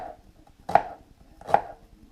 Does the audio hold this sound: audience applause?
no